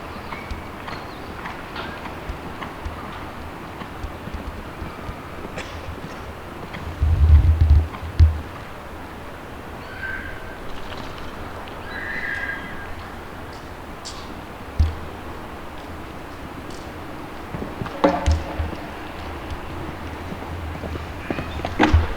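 A retired racehorse moves around an outdoor riding arena at Baji Koen in Japan. Its hoofbeats come as soft, steady footfalls with a few louder thumps, spread over a long stretch of low, even background noise.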